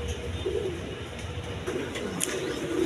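A pair of pigeons coo softly and repeatedly at close range against a low background hum, with faint human voices now and then.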